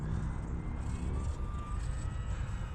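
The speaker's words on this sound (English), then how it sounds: "The HobbyZone Apprentice STOL. Short takeoff and landing trainer aircraft." HobbyZone Apprentice STOL model trainer airplane in flight, its electric motor giving a steady, continuous buzzing drone at moderate distance throughout, with no voices.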